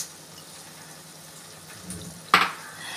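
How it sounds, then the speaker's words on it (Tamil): Mint leaves sautéing in a pan with onion and tomato, a quiet steady sizzle with a short stirring scrape and one louder clatter of the spoon against the pan. "புதினா சேர்த்து நல்லா சுருளாக வதக்கணும்."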